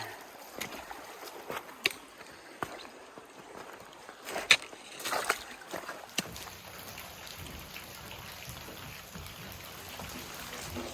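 Footsteps wade through a cold creek on the Sheltowee Trace near Cumberland Falls, making irregular sloshing splashes and trickling water, fairly faint and with no talking.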